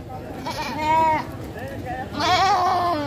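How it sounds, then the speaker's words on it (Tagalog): Young goats, ten head bought in Candelaria, Quezon, give two close wavering bleats, one around the first second and a louder one near the end, amid people talking. "Ilan pong kambing ito, kuya?"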